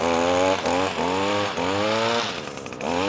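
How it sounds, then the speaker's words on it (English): A small gasoline engine, started on choke while still cold, revs and dips unevenly up close, with a loud, rough two-stroke-like rasp wavering in pitch throughout. "Let's put it in choke since it's still kind of cold."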